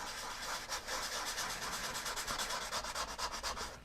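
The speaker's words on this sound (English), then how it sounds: "I use a sanding block here" A sanding block rubs back and forth across a steel-string acoustic guitar's spruce soundboard, a close, loud, rhythmic scratchy rasp in quick even strokes, with no talking.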